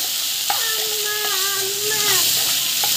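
Onions with asafoetida sauté in a hot pan, giving a steady bright sizzle and hiss close by, with a few faint clinks of stirring and no clear speech over it.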